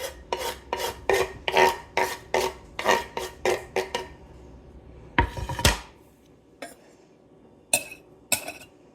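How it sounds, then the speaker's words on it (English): Small onion chopped finely with a knife on a board, a quick steady run of about a dozen close taps, then a scraping sweep and a few scattered knocks. "And I chop it up real fine."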